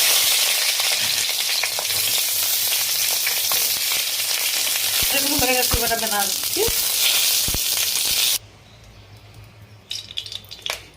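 Eggplant fries in hot oil in a kitchen with a steady, loud sizzle, broken by the clink of a spatula stirring in the pan. The sizzle drops abruptly to a faint crackle for the last few seconds.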